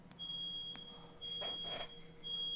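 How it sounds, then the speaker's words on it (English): A smoke alarm sounds a thin, high electronic tone in long stretches, broken by brief gaps, with faint muffled noise underneath; fairly quiet and distant. "It's the smoke alarms."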